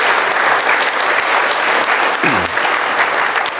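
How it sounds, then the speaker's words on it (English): A crowd claps steadily for a few seconds at a livestock judging contest awards ceremony, dense and sustained applause filling the room, with a brief murmur of voices partway through. "let's just give them a round of applause"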